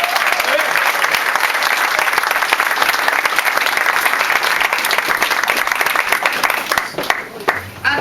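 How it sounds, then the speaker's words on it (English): A sustained, loud wave of audience applause fills a women's campaign event for a state senate candidate, dense clapping throughout that thins slightly near the end. "So a big round of applause to all of you."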